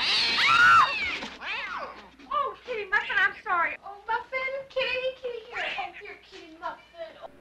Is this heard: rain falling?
no